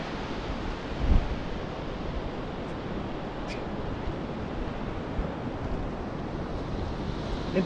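Ocean surf at a beach on a clear day with waves about waist high, a steady broad wash of water and wind noise with no distinct breaks, heard from close by on the water.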